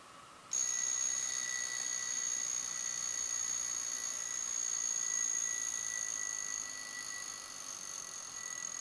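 A Seiko Bell-matic mechanical wristwatch alarm rings continuously and loudly in a steady high-pitched electronic-sounding tone, with a thin whine and faint hum beneath, lasting without pause.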